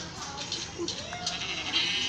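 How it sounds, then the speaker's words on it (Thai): Sheep bleat in a survival video game, a few short, mid-level calls over a steady background hum, with someone talking throughout. "อาหารกูเต็มเพราะกูไม่ได้กินไป กูยังไม่ได้กินเลยโอ้โหแกะเพียบเลย"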